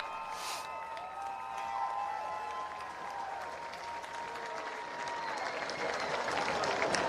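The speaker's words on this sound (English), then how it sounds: "give a round of applause and appreciation for these leaders" Crowd applause at historic Ernest Whited Stadium, heard from a distance in an open-air setting, steady and moderately faint, with a whistle-like tone and scattered crowd noise over it.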